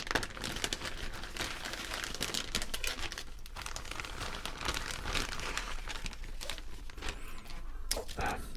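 Pokemon card packs crinkle and rustle up close in a soft ASMR setting, with dense, continuous crackling and papery crumpling that never lets up.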